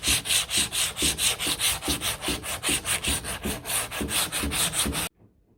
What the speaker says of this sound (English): I'm just going to take this piece of 80 grit, fold it in half, and then work these radius edges by hand